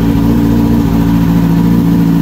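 A 2010 Kawasaki ZX10R motorcycle with an M4 exhaust runs close and loud, a steady throbbing engine note with a rapid pulsing firing rhythm throughout.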